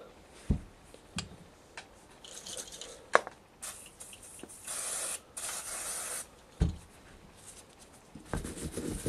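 Aerosol WD-40 lubricant sprayed onto stripped BMW F 650 GS motorcycle parts during a cleaning job, in several short hissing bursts of varying length, with sharp clanks of handled metal parts between them.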